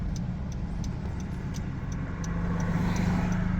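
Idling 9th-generation Honda Civic with a muffler delete, a steady low exhaust drone heard from inside the car with the window open at a stoplight, with faint ticking on top.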